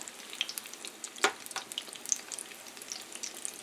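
Breaded cheddar and mozzarella sticks deep fry in hot oil, giving a soft, steady bubbling crackle with scattered small pops and one brief louder splash, close and fairly quiet.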